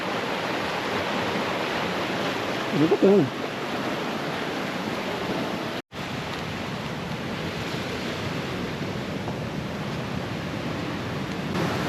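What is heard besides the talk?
small waterfall in a forest stream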